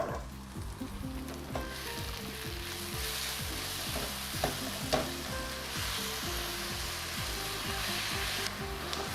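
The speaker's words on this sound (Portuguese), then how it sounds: "é a hora de caramelizar a cebola" Onion caramelizing with brown sugar in a pan, a steady dense sizzle with occasional scraping strokes as it is stirred, close and continuous.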